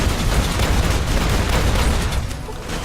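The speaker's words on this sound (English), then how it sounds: "Open fire." Sustained, dense gunfire in the Fallout New Vegas video game as a fight against the Legion opens: loud, continuous overlapping shots and blasts with no break across the whole stretch.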